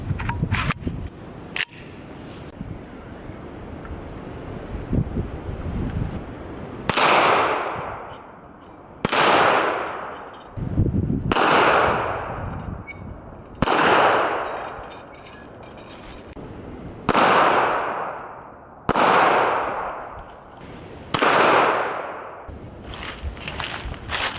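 Kel-Tec PMR30 pistol fired outdoors on a breezy day, a string of about seven sharp, loud gunshots spaced a couple of seconds apart, each with a trailing echo, after some rustling handling noise.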